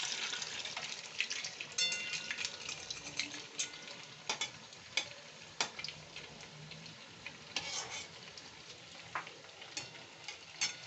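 A stuffed bread roll fries in oil for a paneer-style langcha, giving a quiet, steady sizzle with scattered small pops and crackles throughout.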